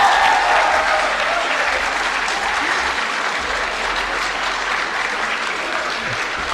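Sustained applause from a seminar audience at the closing session of an event on Indian languages and media, a dense, steady roar of many hands clapping with no gaps.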